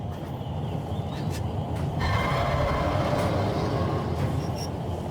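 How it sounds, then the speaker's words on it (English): A train slowing down in the video game Crysis Warhead: a continuous low rumble of rolling wagons with a few brief metallic squeals and clanks, steady and fairly loud. "Train slowing."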